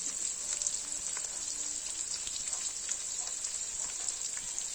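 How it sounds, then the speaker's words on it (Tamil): Small shallots sauté in a village-style pan for chicken gravy, giving a steady, close crackling sizzle with tiny pops throughout, no voices over it. "இந்த சின்ன வெங்காயம் நல்ல செவக்க வதக்கணுங்க"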